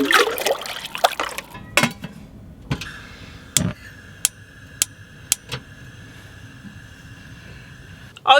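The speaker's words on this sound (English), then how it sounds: "we're gonna do a bucket shower." Water is poured from a bucket for an outdoor shower by a lake, giving splashing at the start and end with sharp knocks and a steady trickle between.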